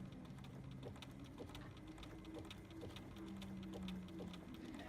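A sewing machine quietly sews a blanket stitch appliqué, giving a faint, continuous mechanical whir with a light rhythmic ticking throughout.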